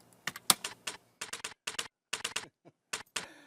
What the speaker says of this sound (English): It was a sample and a typewriter sample with that, which is this.